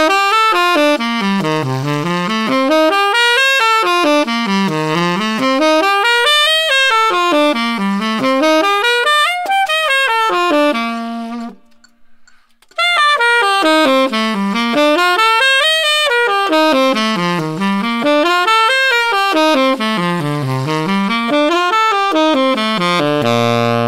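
Saxophone playing a 13ths pattern through the major scale, climbing and falling in quick arpeggiated runs, loud and close, with a short pause midway before the pattern repeats.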